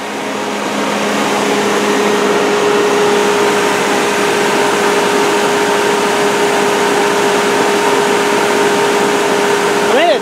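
An old Nissan pickup truck engine idles steadily and loudly close by, a constant droning hum with a sustained tone that holds unchanged for the full ten seconds.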